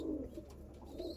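Andhra Kalsira Lalsira pigeons at a loft make a short, very faint low coo, murmuring twice in quick succession against a quiet background, with no speech.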